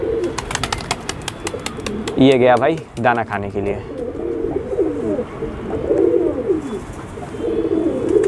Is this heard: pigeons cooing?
yes